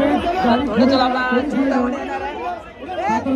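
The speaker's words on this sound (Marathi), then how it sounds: "शूट पण करताना एवढी गर्दी आहे।" Dense crowd chatter fills the Chintamani Ganesh arrival procession in Chinchpokli, many overlapping voices forming a loud, steady babble close around the listener throughout.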